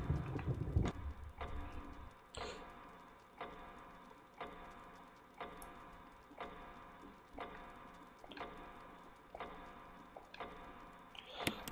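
Steady clock ticking from Resident Evil 1 Remastered, sharp regular ticks about every 0.8 seconds, moderately loud and close, with a brief low rumble at the start and no voices.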